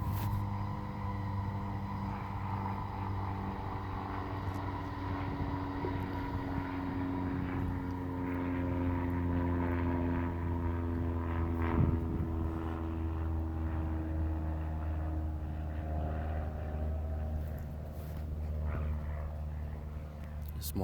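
A small propeller plane drones overhead for about twenty seconds, a steady loud engine hum whose pitch slowly falls as it passes, with no talking over it.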